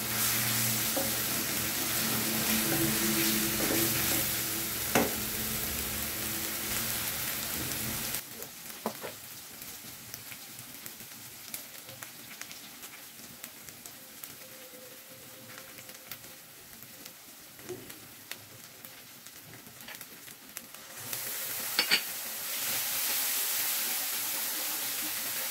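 Blended ginger and garlic paste sautéing in a pan, a steady crackling sizzle that drops quieter midway, with occasional stirring clicks before the louder frying returns.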